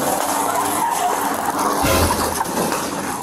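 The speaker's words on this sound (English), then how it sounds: "Oh my God, he revved it up." A truck engine revs hard and pulls away during a police traffic stop, a loud, rough roar that swells near the end with tire noise, with no talk over it.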